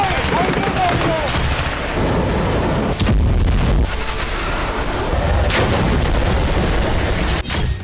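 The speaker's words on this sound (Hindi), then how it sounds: "खान यूनिस में इजराइल ने बरसाए बम।" Bombs exploding in Khan Younis during an Israeli strike, a dense loud barrage of booming blasts and rapid gunfire-like cracks that continues throughout with heavy rumble underneath.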